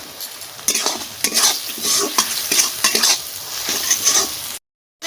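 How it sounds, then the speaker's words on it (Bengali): Spice paste (masala) fries in oil in a pan while a spoon stirs it, sizzling softly under repeated scraping strokes, with a brief silence at the end. "মশলা কষানি হয়ে গেছে তেলও ছেড়ে দিচ্ছে"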